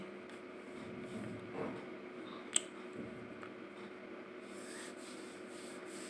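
A screw being driven into the knife assembly of a Jack A2S industrial sewing machine gives faint, close rubbing and scraping, with a single sharp metallic click partway through.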